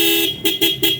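An aftermarket imitation horn on a 2002 Yamaha RX-King motorcycle blares loud and close with a bright, stereo-like tone in a rapid series of repeated pulsing blasts, with no talk over it.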